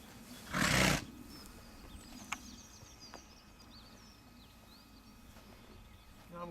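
A pony lets out one strong, breathy snort-blow in a short burst early on, followed by quiet outdoor ambience with faint distant birds and small knocks.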